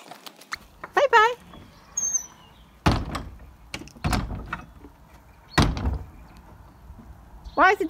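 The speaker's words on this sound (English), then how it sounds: "Why is the door not shutting?" A door is pushed shut against a newly fitted lock, giving several loud thuds and knocks spread through the moment, with voices and chirpy sounds between the impacts.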